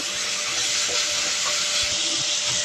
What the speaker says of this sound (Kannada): ಈರುಳ್ಳಿ ನೋಡಿ ಚೆನ್ನಾಗಿ ಹಿಂಗೆ ಫ್ರೈ ಮಾಡ್ಕೊಂಡು